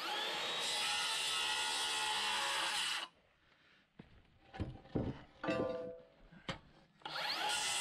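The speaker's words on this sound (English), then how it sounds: "Take your saw." A power saw cutting on a house framing job, with a loud steady whine for about three seconds, then quieter knocks, scrapes and brief bursts before the saw starts up again.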